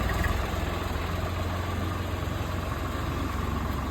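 A tractor engine idles steadily and close by, a continuous low rumble with a fine vibrating texture throughout and no voices.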